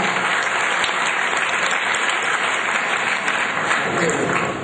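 Steady, dense applause from the members at a 2017 Pentecostal church election meeting in Banten, a continuous wash of clapping that holds at an even level for several seconds, with some voices mixed in.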